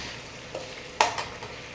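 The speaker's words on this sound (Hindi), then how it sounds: "तो देखिए बैगन भी फ्राई हो गए।" Eggplant (brinjal) slices fry in a pan as part of making Hyderabadi tarkari biryani: a soft, steady sizzle with one or two brief taps, short and fairly quiet.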